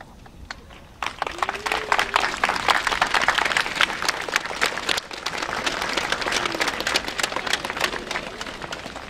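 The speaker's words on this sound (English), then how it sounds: "Boys and girls, let's give them another huge round of applause." Elementary school students in a gathering give a fifth-grade class a round of applause after its recitation of the Constitution's preamble at a Constitution Day celebration. Dense clapping starts abruptly after a quiet second and carries on steadily to the end.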